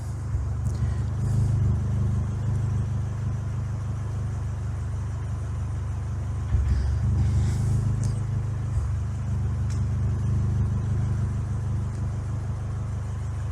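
A remapped Ford Fiesta Zetec S mk7 runs on a dyno, a steady loud engine drone that swells again midway, filling the space with no talk.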